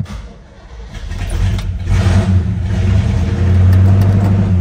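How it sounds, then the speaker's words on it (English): A 1968 Pontiac GTO V8 starting cold, a loud, close engine that catches and settles into a steady, rumbling fast idle with a deep, constant low drone. "You can see that it is indeed a cold start."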